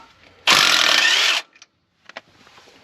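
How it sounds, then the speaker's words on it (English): A rattle gun fitted with chrome sockets removes bolts on a supercharged Barra-engined burnout car, giving one loud, sustained burst of about a second, followed by faint clinks and handling noises. "kick straight into taking those ones off with chrome sockets on the rattle gun"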